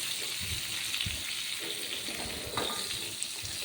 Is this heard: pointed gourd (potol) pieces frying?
yes